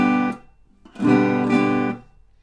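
Guitar strummed in a short burst that is cut off, then a longer strummed chord stopped abruptly as the heel of the right hand mutes the strings, leaving a brief silence after each; close and clear with no talking.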